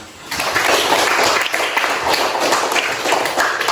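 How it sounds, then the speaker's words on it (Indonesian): Students in a classroom break into dense applause, and the clapping carries on evenly for several seconds. "Ya, baru tepuk tangan."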